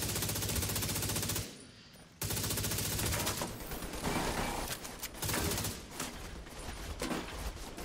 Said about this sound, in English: I'm using minigun right now